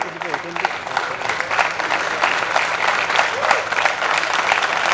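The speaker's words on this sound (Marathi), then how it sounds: "मी असं सर्वांना विनंती करतो की जोरदार टाळ्या" Audience at an alumni meet applauding, a loud, dense burst of clapping from a large crowd that continues steadily, with voices mixed in.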